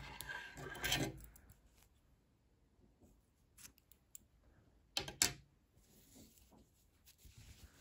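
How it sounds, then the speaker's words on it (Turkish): Scissors snip through knitting yarn in a quiet room, two sharp, close cuts a few seconds apart with soft handling rustles between them. "İpliği burada kesiyorum"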